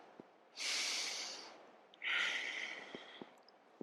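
Two slow, deep breaths during a floor yoga sequence for the lower back, each a long airy exhale of about a second and a half, close and fairly quiet, with short sniffs between.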